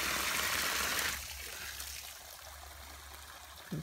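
Water trickles and splashes from a water setup at a cob-building site with a digger, louder for the first second then settling into a quieter steady dribble over a low hum.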